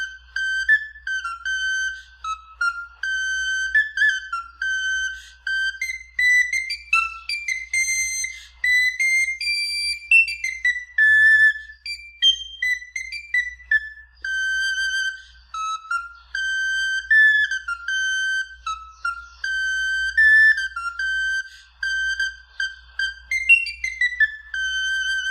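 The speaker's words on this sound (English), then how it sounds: "This video is an example of the Garklean recorder, which is the smallest recorder there is." A garklein recorder, the smallest recorder, plays a shrill, very high melody with rapid runs and trills, loud and continuous.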